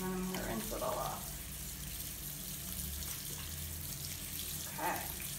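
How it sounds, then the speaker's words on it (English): Tap water runs steadily into a sink while soapy hands are rinsed under it, a continuous close splashing flow with brief voice fragments at the start and near the end. "and then I'm gonna rinse it all off"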